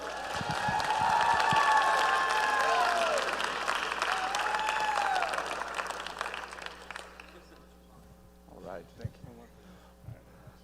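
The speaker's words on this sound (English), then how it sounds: "I want to give a big round of applause for our friends" Audience at a family night event bursts into sustained applause and cheering with whoops, loud and full for several seconds before thinning out to scattered claps and murmuring voices.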